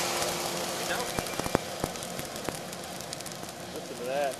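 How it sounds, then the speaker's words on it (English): Sharp crackles and pops scattered over a steady hiss and low fan rumble, like beans snapping and sizzling as they tumble from a hot roaster. "Listen to that. Snap and sizzle."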